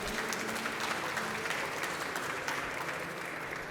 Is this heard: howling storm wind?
no